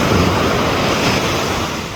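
Steady surf washing onto a beach during a morning swim at sea, a continuous loud roar of breaking waves with some wind rumble against the microphone, no voices.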